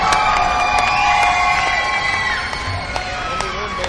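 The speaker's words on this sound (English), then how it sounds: "Big round of applause for your champion, Ronald Raw." A large crowd at the 2007 MLG Las Vegas National Championships cheers and shouts loudly for the champion, a dense, sustained roar with whoops and some scattered clapping.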